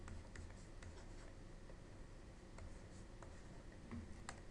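Pen or marker writing out a matrix by hand, heard as faint, close scratching with light ticks and taps at irregular intervals over a quiet background.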